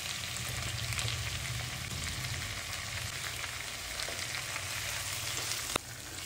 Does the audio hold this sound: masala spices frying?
yes